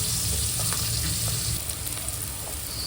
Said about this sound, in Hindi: इसके अंदर थोड़ी चने की दाल भी डालना है।